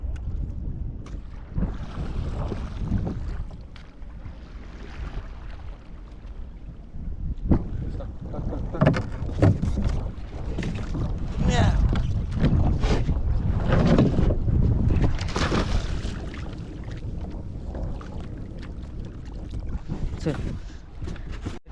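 Boat under way on open water near Gharapuri (Elephanta) on a fishing trip, with a steady low rumble and wind buffeting the microphone throughout, brief rattles and splashes on top, and faint voices in places.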